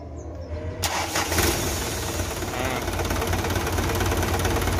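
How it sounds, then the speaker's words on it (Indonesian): A 1997 Ragasa 120 PS truck engine is cranked by its starter and catches, settling into a loud, steady diesel rumble that runs to the end without talk. "Starter."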